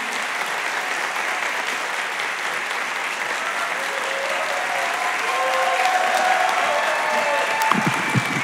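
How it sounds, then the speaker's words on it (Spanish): A theater audience at a live stand-up comedy show applauds the comedian Felipe Avello, with dense, steady clapping that swells slightly near the end, and faint voices call out beneath it. "¡Un gran aplauso para Felo!"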